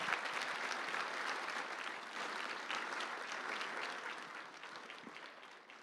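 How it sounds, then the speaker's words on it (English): Steady applause from an awards gala crowd, a dense patter of clapping that holds throughout and tapers slightly toward the end. "Now we'll have that clap."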